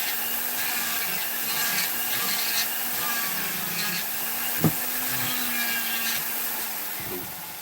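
A Vevor flex shaft rotary tool with a burr carving a wooden Knights Templar figure, a steady high whine with grinding, rubbing contact throughout, close up, one brief sharp knock partway, no talk.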